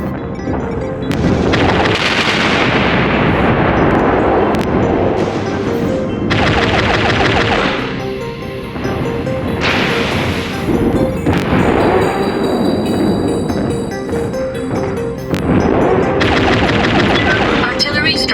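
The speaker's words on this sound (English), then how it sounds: "Artillery strike online." Artillery strike in the MechWarrior Online battle game, heavy booming blasts and rumbling explosions rolling in repeated loud waves over a long stretch, mixed with gunfire-like crackle.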